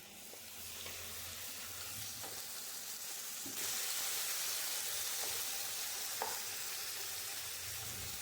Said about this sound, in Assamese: এতিয়া মই পেনটোতে আৰু অলপমান তেল দি লৈ পেলাই তাতে মই মেৰিনেট কৰি থোৱা চিকেনখিনি ধুনীয়াকৈ ভাজি ল'ম